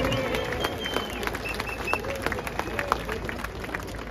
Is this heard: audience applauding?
yes